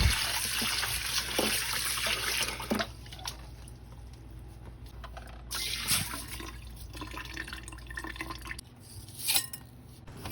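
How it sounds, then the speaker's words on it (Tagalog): Uncooked rice being washed for chicken arroz caldo, with water dripping, trickling and swishing in a bowl, a few louder splashes standing out and no talk. "Isunod naman natin hugasan ng 1 tasang bigas."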